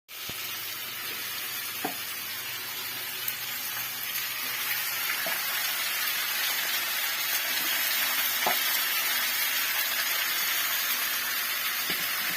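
Tomatoes fry in hot oil for a Marathi-style eggplant curry, a steady loud sizzle throughout with a few faint clinks of a utensil against the pan.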